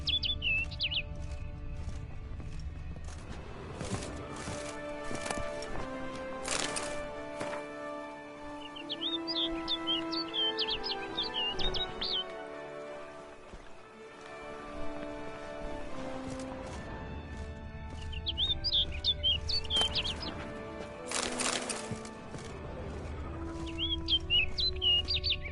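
A bird chirps in short, bright bursts of tweets repeated several times in Final Fantasy XIV: Shadowbringers, set against a continuous musical score that swells and fades.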